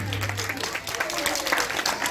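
Applause from the audience at a ceremony marking the completion of a nursery school building in Gbagba, Bingerville, a steady crowd clapping that fills the whole stretch, with a low hum and some voices mixed in underneath.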